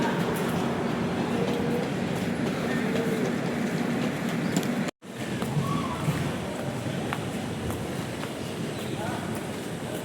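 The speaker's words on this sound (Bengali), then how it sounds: "2 নম্বর প্ল্যাটফর্মে আসে শক্তিপুঞ্জ এক্সপ্রেস" The Saktipunj Express, Howrah to Beohari, sits at a station platform with a steady rail rumble and clatter of carriages, briefly cut to silence midway, while people talk nearby.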